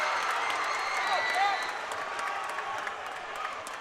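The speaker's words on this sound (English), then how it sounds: "Crowd is on their feet." A basketball crowd at a boys varsity high school game, Millard South against Creighton Prep, applauds and cheers steadily in a gym, with an announcer's voice over the clapping.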